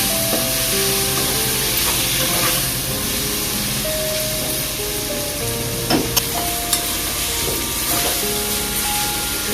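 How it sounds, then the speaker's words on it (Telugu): Chopped tomatoes being stirred into a sizzling egg curry pan, with steady frying hiss and occasional clinks of the spoon against the pan throughout. "ఒకసారి మిక్స్ చేసుకోవాలి"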